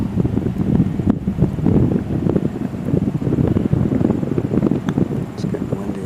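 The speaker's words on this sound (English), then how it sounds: "It's getting windy out here." Gusty wind buffets the microphone on an outdoor golf course during a matchplay championship, a steady low rumble filling the whole stretch alongside faint background voices.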